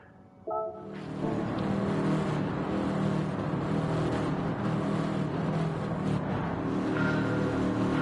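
Engines of racing cars in a league race video game roar and rise in pitch as the pack launches from the start, loud and continuous after a brief quieter opening.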